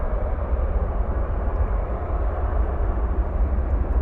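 A Volaris jet airliner takes off from runway 18 left at DFW airport at night, a steady, loud, broad engine roar that holds evenly throughout.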